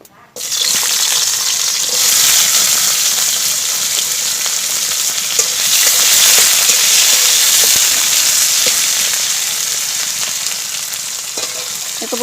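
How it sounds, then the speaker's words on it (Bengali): Bitter gourd fries in oil in a pan, a loud, steady, dense sizzle and hiss that runs unbroken throughout with no voices over it. "দেখো প্রথমে কিন্তু আমি উচ্ছেটা ভালো করে ভেজে নেব"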